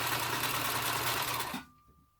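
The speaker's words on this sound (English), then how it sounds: "I'm sewing the tail right now." A sewing machine sews the tail of a fuzzy furry animal puppet, a steady close whirring run that stops abruptly near the end and leaves quiet.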